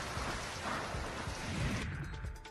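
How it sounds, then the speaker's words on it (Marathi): Heavy rain driven by strong gusting wind in Shahapur, a dense, steady roar of downpour with low buffeting rumble throughout, the hiss thinning slightly near the end. "शहापूरमध्ये सोसाट्याच्या वाऱ्यासह तुफान पाऊस बरसलाय"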